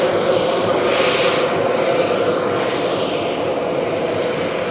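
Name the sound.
Airbus A330 jet aircraft landing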